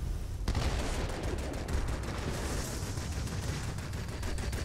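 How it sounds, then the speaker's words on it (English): An IL-10M attack aircraft in World of Warplanes releases bombs amid a dense, continuous roar of blasts and rapid gunfire that starts abruptly and holds loud throughout. "Another bomb away"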